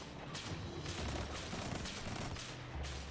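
Dense gunfire in the Destiny 2 video game, a steady wash of shots and impacts running throughout at constant loudness, with no clear gaps between bursts.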